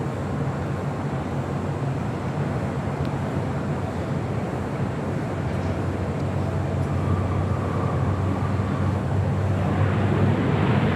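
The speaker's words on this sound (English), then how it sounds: "That is the EVA Air Cargo 777 freighter." EVA Air Cargo Boeing 777 freighter approaching to land at LAX, a continuous broad roar of jet engines and rushing air, steady and fairly loud throughout.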